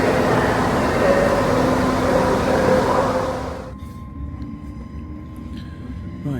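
A steady rumble and hiss fills the carriage of a train pulling out of York station on the way to Newcastle, heard from on board, with the broadband noise dropping off partway through to a quieter hum and faint rattles.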